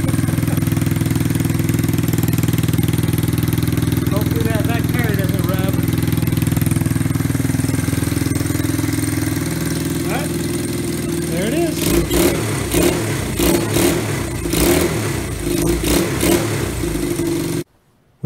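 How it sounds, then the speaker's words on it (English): A nearby engine with an exhaust leak idles with a rough, raspy exhaust note, then revs in several sharp bursts near the end before cutting off abruptly. "new exhaust leak I gave it makes it sound kind of mean"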